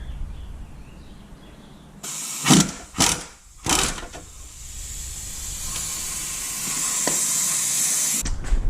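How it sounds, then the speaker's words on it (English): A power tool loosening two 10mm bolts on a Jeep Patriot CVT 4x4 transmission, giving three sharp hissing air bursts close by, then a steady whirring hiss that runs on and stops abruptly. "We're going to take these 2 10mm bolts out."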